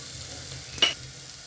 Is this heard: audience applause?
no